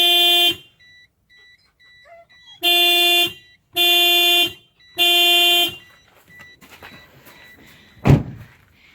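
Car horn blasts out in the New Zealand bush: one short honk, a pause, then three long sustained blares in steady succession, loud and close, followed by quieter rustling and a sharp thump.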